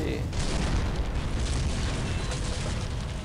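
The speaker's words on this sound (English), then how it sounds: "We are just going to blow up this last cannon." A cannon blown up with a bomb in Contract J.A.C.K: a sudden loud blast followed by a sustained dense roar of explosion and debris rumbling for several seconds.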